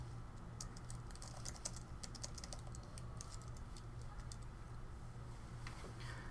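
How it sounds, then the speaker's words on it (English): Typing on a computer keyboard during a live stream, a quick irregular run of clicking keystrokes, faint and close over a low steady hum, with no talk. "I'm going to type it in here."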